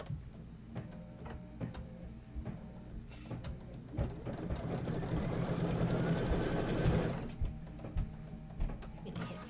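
A sewing machine stitches quilt pieces in a steady mechanical whir that swells and holds for several seconds, set between quieter stretches with clicks and a softly speaking voice.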